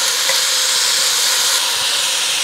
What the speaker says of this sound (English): We're just gonna move this around, get a nice sear all over it.